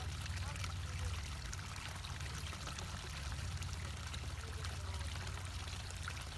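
Water from a hose fed from a lake pours into an outdoor pond, a steady, faint rushing trickle with no break.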